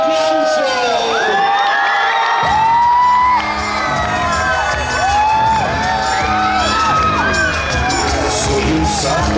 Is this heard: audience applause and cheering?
yes